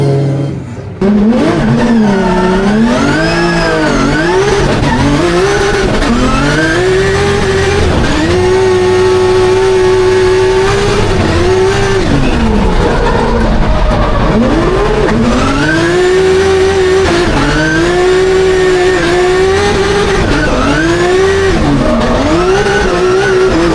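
Drift cars at a Drift Masters round in Spain rev their engines loudly and continuously, the pitch sweeping up and down in repeated surges as the cars slide, with tyre squeal mixed in throughout.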